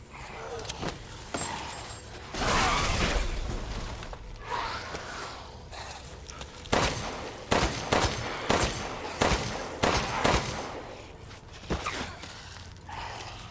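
Resident Evil Village combat with a pipe bomb, sharp sudden blasts and repeated gunshots in uneven bursts, mixed with clattering movement and a rumbling explosion near the start, loud and close.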